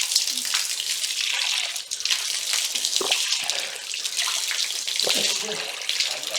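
Cold, spring-fed water splashes and pours steadily from a stone tank while hands and face are washed, with close, continuous gushing and occasional hand splashes.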